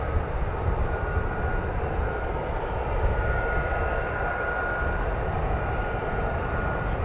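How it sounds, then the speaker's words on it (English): Lockheed Martin F-35A Lightning fighter jets flying, heard as a steady distant roar of jet engines that holds throughout without speech. "These are F-35As."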